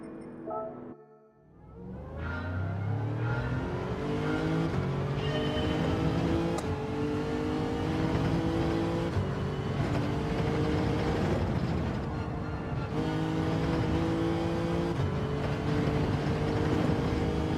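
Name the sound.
BMW car engine in video game Gran Turismo 7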